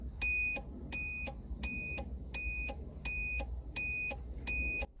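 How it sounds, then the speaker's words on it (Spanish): A car's hazard-light warning chimes as a series of seven sharp, high electronic beeps at a steady pace of about one and a half per second, with a faint ticking click underneath. "no solo hace un ruido de clic para avisarte de que las luces están encendidas, también te avisa con un pitido"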